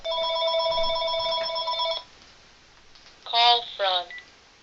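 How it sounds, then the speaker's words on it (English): An electronic phone ring tone with steady stacked beeping tones for about two seconds, followed by a quieter pause and a couple of brief voiced sounds. "Oh, that darn phone."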